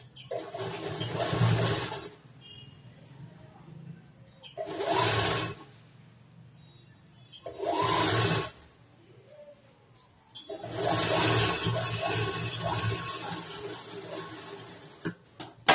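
A sewing machine stitches a blouse in four separate bursts of steady running, with quiet gaps between them.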